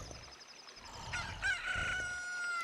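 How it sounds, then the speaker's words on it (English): A chicken crows in The Legend of Zelda: Ocarina of Time on the N64, one clear rising cock-a-doodle-doo call standing alone over a soft game background hum. "Look, a chicken hatched from the egg you're incubating."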